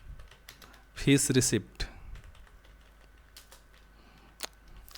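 A computer keyboard clicks in short, irregular bursts of keystrokes while someone fills in a form field, with a brief spoken phrase over the typing at close range.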